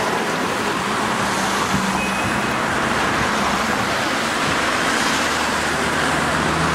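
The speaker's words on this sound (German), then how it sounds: "jetzt hier fährt hier gerade wieder ein Laster kurz davor" A truck passes in road traffic beside the East Side Gallery, a dense, steady roar of tyres and engine rumble with broadband road noise throughout and no clear voices.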